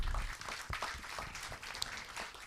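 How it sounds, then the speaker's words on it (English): Scattered, faint audience clapping at an Indian aviation event honouring women, uneven and somewhat distant with individual claps standing out. "So a big round of applause"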